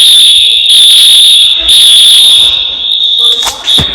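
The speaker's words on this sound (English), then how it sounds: "like a little fire alarm or whatever in the school went off" A school fire alarm going off, a loud piercing continuous electronic tone that cuts out briefly and resumes, ringing close and shrill with some faint voices underneath.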